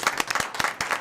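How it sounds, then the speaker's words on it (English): Dense applause from an audience at a school board of trustees meeting fills a brief moment, many hands clapping at once for two student winners. "If everybody can please put your hands together"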